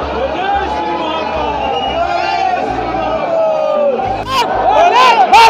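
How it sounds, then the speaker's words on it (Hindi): Dense New Year crowd at the Mahakal temple in Ujjain, a steady hubbub of many voices with scattered calls and whoops, loud and close throughout, swelling near the end. "देख सकते हैं आप आज नववर्ष के उपलक्ष्य में कितनी भीड़ हो रही है महाकाल मंदिर पे।"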